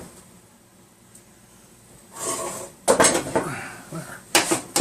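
A metal pot stand is pulled out of a trap setup, giving a few sharp clanking, scraping metal rattles in separate bursts after a quiet start, close and fairly loud.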